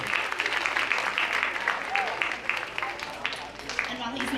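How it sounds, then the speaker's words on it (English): Seventh-grade students and families applaud at a middle school awards assembly as a student is called up, a fairly steady moderate clapping with a few voices mixed in. "let's give a round of applause for Tyler Fuse"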